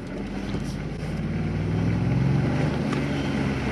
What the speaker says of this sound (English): Wow, this motor has power.